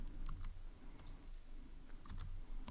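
Soft keyboard typing while writing Android code, a faint scattering of light clicks in irregular bursts over a low steady room hum, with no voices.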